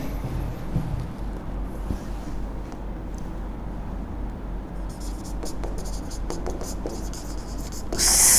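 Pen or marker writing out a geometry solution on a Pythagoras theorem problem, a steady soft scratching and rubbing close by with a few light taps, brightening near the end.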